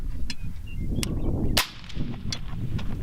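A suppressed 224 Valkyrie rifle fired once with a 5.56 suppressor gives one sharp, loud crack at mid-clip. Dense outdoor wind rumble fills the background, and a few fainter distant snaps stand out against it.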